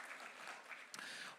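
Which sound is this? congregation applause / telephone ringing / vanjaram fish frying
congregation applause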